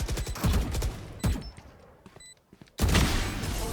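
Video game gunfire crackles in rapid bursts: a volley at the start, another around the middle, then a sustained loud barrage near the end, with quieter gaps between.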